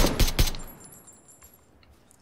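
Several close-range gunshots fire in PUBG, two sharp bursts at the start followed by a fading tail and a quieter gap, then one more loud shot at the very end.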